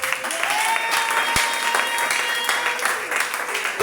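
A church congregation claps together in steady, sustained applause, fairly close and filling the room, with a single sharp knock standing out partway through.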